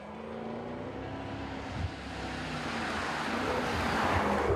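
A new Maserati Quattroporte, a near two-ton saloon, driving along with a steady engine drone and road noise that slowly builds in loudness, heard from close by without talk.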